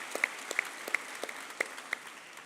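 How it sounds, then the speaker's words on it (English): Sparse, scattered handclaps ring out at a college white coat ceremony, a few distinct claps spaced across a quiet room rather than a full ovation. "Give her a round of applause, Dr. Torres."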